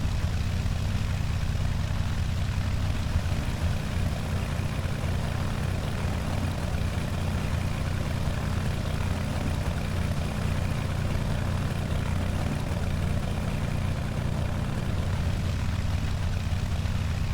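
A simulated Beech V35B Bonanza piston propeller engine drones steadily in flight in X-Plane, a loud, unbroken low hum with no talking.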